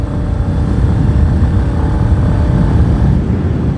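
A Royal Enfield Battalion Bullet 350 motorcycle accelerates on an open road, its engine a loud, close, low rumble that holds steady and unbroken throughout, with no talking.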